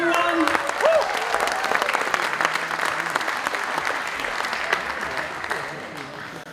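Crowd applause and cheering at a Pacific youth crusade on Samoan night, sustained and loud throughout, with a few whoops and voices rising over the clapping.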